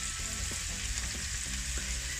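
Onion with a little salt frying in a pan for a meat lasagna, a dense steady sizzle with brief stirring scrapes, close and continuous.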